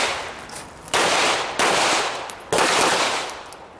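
Three loud, sharp pistol shots crack out at an IDPA shooting match stage, spaced unevenly over a few seconds, each ringing off with a short decaying tail.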